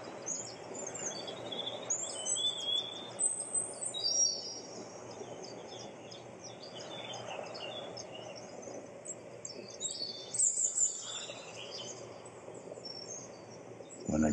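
Birds sing and chirp in a perennial garden, several high tweets and trills scattered over a soft, steady outdoor background with faint insect buzz, moderately distant and gentle.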